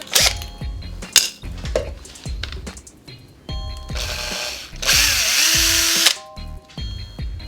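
A small power drill with a 2.1mm bit whines in short bursts while boring a hole in a model vehicle part, its pitch sliding as it slows, mixed with clicks and clatter of small parts between runs.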